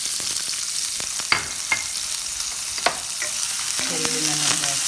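Chopped shallots fry in coconut oil over a medium flame, a constant close sizzle broken by a few sharp spatula scrapes and clinks against the pan, with no talking.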